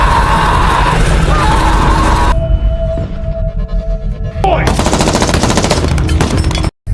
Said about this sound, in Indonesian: tiba-tiba muncul ibu dan para gangster lalu menembaki Miles